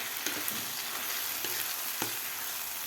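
Mashed roasted eggplant for Khandeshi vangyache bharit stirred in a frying pan, a steady broadband sizzle with several scraping stir strokes and soft knocks, close and continuous with no talk.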